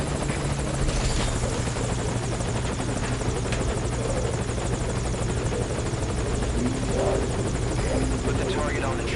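A helicopter idles at a landing zone in Metal Gear Solid V: Ground Zeroes, its steady rotor drone and engine hum filling the scene loud and continuous while radio voices talk over it.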